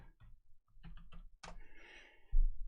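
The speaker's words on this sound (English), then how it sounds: "I'm trying to type something. Oh, my keyboard." Keys on a wireless computer keyboard are tapped in short, quiet bursts of clicks with brief pauses between them, ending with a louder thump.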